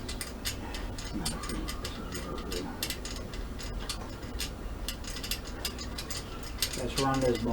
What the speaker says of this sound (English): What I'll do is I'll tighten up this clamp first.